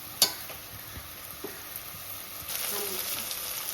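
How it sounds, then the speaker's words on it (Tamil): Mint and green chillies sauté in a pan for pudina pulao, a soft steady sizzle that swells near the end, with a sharp clink of a spoon against the pan at the start and light scraping stirs. "இது கொஞ்ச நேரம் வதங்கட்டும்."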